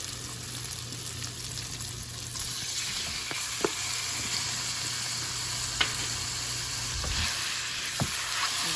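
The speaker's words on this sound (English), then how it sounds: "We're going to go ahead and saute up our shrimp." Shrimp sautéing in a pan with softened vegetables, a steady close sizzle and frying hiss with occasional spoon scrapes and clicks as it is stirred.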